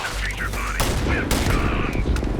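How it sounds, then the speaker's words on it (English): Grenade explosion in the Starfield video game: a loud, dense, continuous roar of blast and crackling noise that fills the whole stretch, with sharper bursts partway through, and a voice partly buried beneath it. "Just casual grenade, no big deal."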